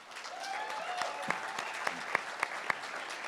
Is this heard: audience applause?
yes